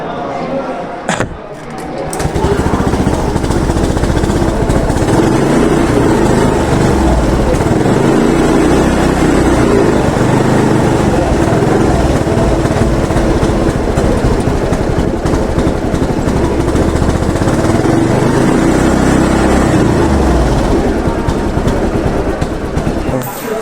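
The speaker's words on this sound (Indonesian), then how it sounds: "Lalu kita hidupkan motor." A Honda motorcycle engine starts and then runs at a steady idle during routine servicing in a workshop, a continuous close mechanical drone after a brief cranking burst, with a person talking over it.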